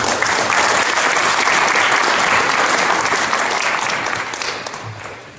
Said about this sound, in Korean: 우리 자녀들에게는 축복의 박수 함께 드리겠습니다